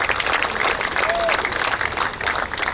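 Audience applauding at a badminton tournament prize distribution ceremony, steady dense clapping throughout, close and loud, with a faint voice briefly audible underneath.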